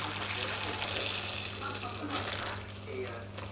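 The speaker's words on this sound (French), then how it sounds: "On va mettre l'eau chaude dessus." Hot water poured over small foie gras terrines in a baking dish, a steady splashing gush running throughout with low background hum.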